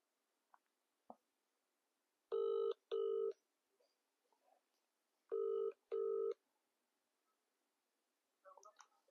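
A phone call is placed, with a couple of faint button clicks followed by two pairs of loud electronic ringback tones separated by quiet pauses, and a few soft noises at the end.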